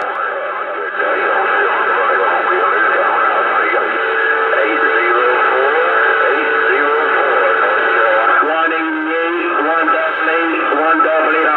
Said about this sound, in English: I really, really, really like that new sound coming off that 188 radio.